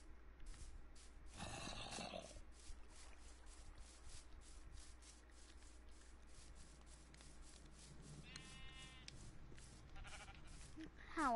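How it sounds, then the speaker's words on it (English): A few sheep bleats from the video game Minecraft, short and wavering, break through a steady rubbing, scraping background noise. "How are my sheep today?"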